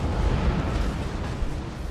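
Heavy naval shell explosions from battleship combat in World of Warships, with the German battleship Grosser Kurfürst in action, forming a dense continuous low rumble of overlapping booms throughout.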